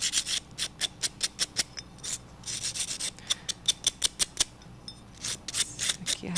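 A nail file rasps across a fingernail in short, rhythmic strokes, close and crisp, repeated in quick groups with brief pauses between them.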